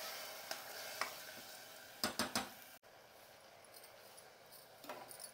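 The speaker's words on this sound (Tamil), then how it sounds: "நல்லா பச்சை வாசனை போகிற அளவுக்கு நல்லா வதங்கட்டும்." Onion and tomato paste sauté in a pan for mutton kuzhambu, a quiet continuous sizzle broken by a few sharp utensil taps and scrapes against the pan, including a quick cluster of knocks.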